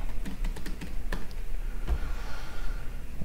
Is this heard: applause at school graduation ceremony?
no